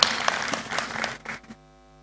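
An audience claps at the NSSF annual members' meeting, a short, fairly loud burst of dense applause that fades and cuts off abruptly after about a second and a half.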